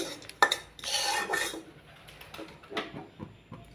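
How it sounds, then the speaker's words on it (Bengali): A utensil scrapes and stirs against a metal frying pan in short, uneven strokes, with a light clatter near the start; no one speaks. "আমি আরও একদম গোল্ডেন কালারের করে এটাকে নেড়ে নেব"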